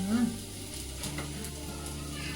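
Fenugreek leaves roast in ghee in a pan for mathri, giving a soft, steady sizzle with stirring scrapes and a brief low tone at the start, fairly quiet and with no talking.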